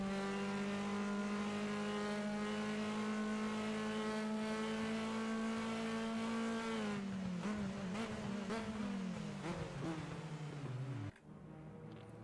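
Touring race cars in a racing video game, a loud steady engine whine that drops in pitch under braking into a hairpin, with tire noise and overlapping engines, then cuts off abruptly near the end.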